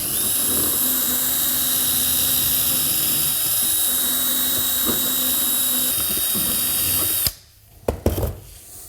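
A power sander grinds steadily against a plastic ATV part with a loud, continuous high whine. It cuts off abruptly near the end, leaving a few clunks and handling noises.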